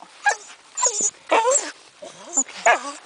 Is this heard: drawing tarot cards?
no